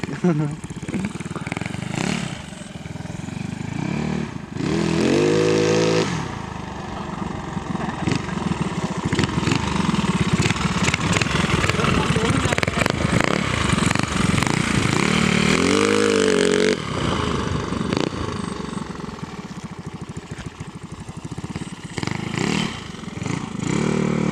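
A Yamaha Mio scooter fitted with a 59 mm bore kit launches hard, its engine revving loudly and droning continuously for over twenty seconds, with pitch swings as it accelerates and voices talking over it.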